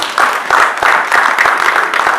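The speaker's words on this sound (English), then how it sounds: "I'd like that we please give him yet another resounding applause." An audience at a church event applauds the chairman of the occasion, loud continuous clapping with steady rhythmic pulses, close and sustained throughout.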